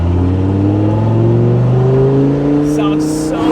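A salvage-repaired Lamborghini engine revs up under way, its loud, rising drone climbing steadily in pitch through a gear, heard close from inside the cabin.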